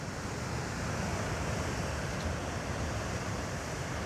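A waterfall in Canada gives a steady, dense roar of falling water that stays even and unbroken throughout, with no voices.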